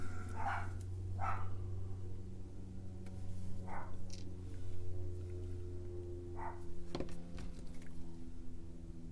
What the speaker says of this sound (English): Wonder what they're barking at now.